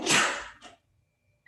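A single sharp sneeze close by, a burst of breathy noise that fades quickly into near silence.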